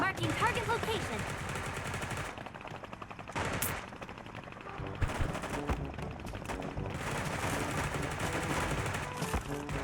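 Rapid automatic gunfire bursts in the Sausage Man battle royale game, loud and dense through most of the clip with a brief lull in the middle, while players talk over it.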